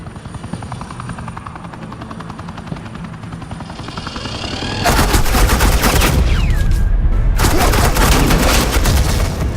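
Gunfire erupts in an animated Batman fight scene as suppressing fire, loud dense bursts of automatic shots over a steady helicopter rotor drone that carries on throughout.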